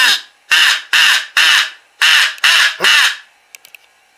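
An old all-wooden crow call is blown in seven loud, harsh caws with short gaps, sounding close and crowlike, followed by a few faint clicks.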